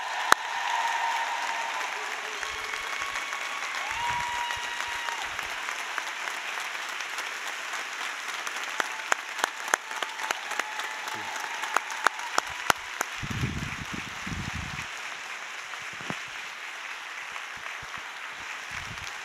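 An audience applauds steadily through the whole stretch as two former school superintendents are welcomed home, with a dense wash of clapping and a few louder individual claps standing out near the middle.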